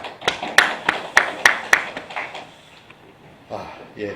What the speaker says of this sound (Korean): 감사의 박수를 함께 드리도록 하겠습니다